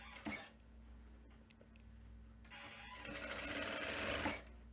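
Sewing machine running steadily as it stitches elastic on a shirt, a continuous motor whir that grows louder and busier in the second half before stopping, with no talking.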